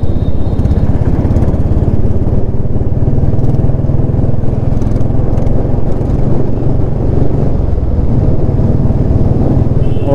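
A motorcycle engine fitted with a loud illegal exhaust runs steadily and close, giving a continuous rough, throbbing drone throughout with no talking.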